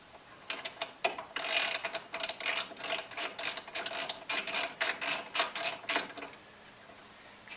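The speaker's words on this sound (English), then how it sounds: "I'm gonna take off this bolt right here." Ratchet wrench loosening a bolt on a 2013 Subaru WRX during a horn install, giving a close, rapid series of dry clicking ratchet strokes for about six seconds before stopping.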